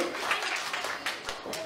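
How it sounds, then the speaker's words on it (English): Scattered clapping from a wrestling show audience applauding themselves, loose irregular claps a short distance off, moderately loud with a voice talking over them. "give yourselves a round of applause"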